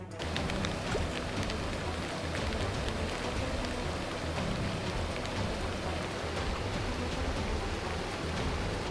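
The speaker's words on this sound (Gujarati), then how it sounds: "નદીનો ધસમસતો પ્રવાહ" Rushing floodwater of the Ambika River in spate after torrential rain in the Saputara forests of Dang district, Gujarat, a dense, loud, continuous roar without any voices.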